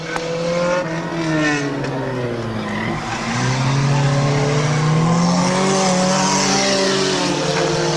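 Race cars roar around the Midvale Speedway oval in a loud, continuous pack, engines rising and falling in pitch as they sweep past with tires squealing.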